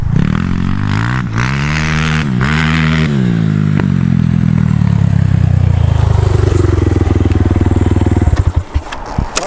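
A KaYo T4 250 dirt bike rides close by with its small engine revving hard. The pitch rises and falls through gear changes, with some clatter, before it drops off near the end.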